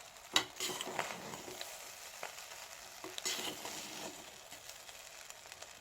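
Rice being stirred into a fried onion-chili egg mixture in a pan, steady frying sizzle with scraping stir strokes and occasional clinks, close and moderately loud.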